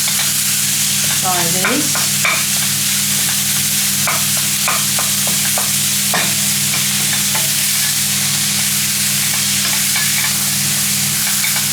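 Meat frying in a pan while being broken up and stirred, a loud constant sizzle with repeated scraping and tapping of a utensil, and a brief spoken phrase.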